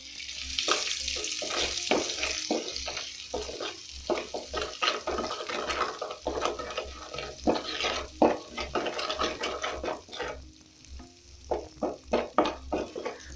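Margarine and salt sizzle and pop in hot oil in a pan before popcorn kernels go in, a steady close crackle with scattered sharp spits and scraping clicks throughout.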